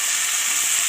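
Chicken rice with vegetables and two melting stock cubes fries loudly in a pan, a thick, close, continuous sizzle with light stirring beneath it.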